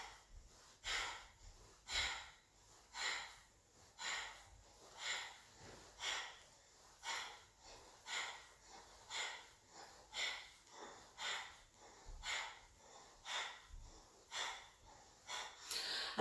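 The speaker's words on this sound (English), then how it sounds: "You'll hear that the breath is coming quite out of the throat" A breathing exercise with air drawn in through the nose and pushed out from the throat, a steady rhythm of about sixteen close, breathy inhale-exhale cycles, hissing and slightly rasping, with no speech.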